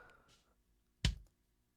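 A single kick drum beater strike picked up by a microphone inside the drum: one sharp, loud, close hit with a bright click and a short low thump, preceded by faint low noise and followed by silence.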